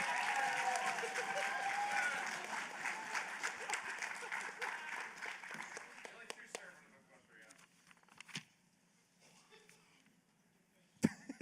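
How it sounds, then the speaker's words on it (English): A crowd at a mock courtroom show at the Everfree Northwest 2024 fan convention claps loudly, with voices mixed in. The applause thins out after about six seconds, leaving a quieter room with scattered knocks. "Let us give a round of applause for our boys in blue."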